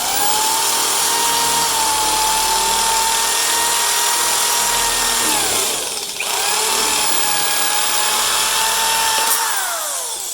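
Kett KD-200 electric power shears cut through sheet metal with a loud, steady high-pitched motor whine, briefly dipping once midway and slowing at the end, with no voices.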